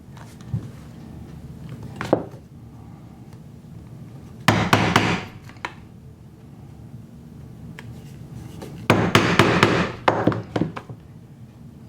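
A hammer strikes leather stitching prongs to mark stitch holes in a handmade leather sheath, giving two bursts of sharp, loud taps about four seconds apart over a quiet room hum, with no talk.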